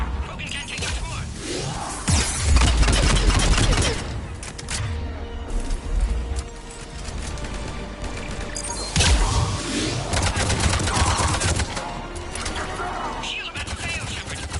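Combat gunfire in Mass Effect 3, with sustained bursts and volleys throughout, heavy low rumble and occasional whooshes, loud and dense, with voices speaking over parts of the fight.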